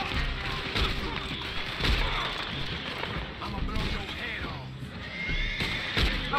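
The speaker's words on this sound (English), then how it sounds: "Horses, shut up." Horses neigh and whinny during a gunfight in Red Dead Redemption 2, with thuds, hoofbeats and gunfire mixed in, while a player talks over the game audio.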